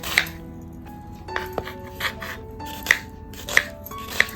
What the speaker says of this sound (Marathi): आता बघा आई कशा प्रकारे कापते एवढा जाडा कापायचा कांदा